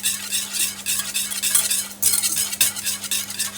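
Bubbling sizzle of mussel cooking juice reducing in a pan, with gentle stirring scrapes and spoon sounds, close and continuous with no voices.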